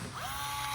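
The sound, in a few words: Milwaukee electric rivet gun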